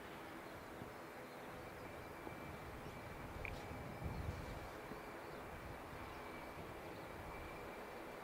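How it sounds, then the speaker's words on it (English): An Air New Zealand airliner taxiing at the Canterbury Aero Club on a day of strong winds, its engines a steady, distant broadband roar with a faint whine, rising slightly midway, with no voices. "when we hear Air New Zealand on the taxiway"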